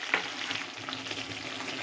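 Mutton fries in oil in a pan with a little sugar, a dense, even sizzle close by with a single light clink of stirring near the start.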